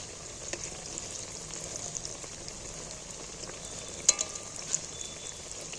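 Jackfruit chops fry in hot oil in a pan with a steady, soft sizzle. A few sharp clicks of a utensil mark each piece being turned over one at a time.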